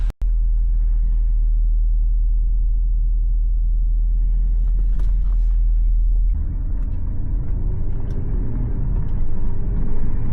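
Low engine rumble heard from inside a moving Porsche Cayenne Turbo with a secondary catalytic converter bypass, steady and droning, with a shift in tone partway through as the car accelerates.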